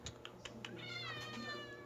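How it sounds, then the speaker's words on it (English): A black outdoor cat meows close by, a drawn-out wavering call following a few soft taps at the start. "Oh, my cat."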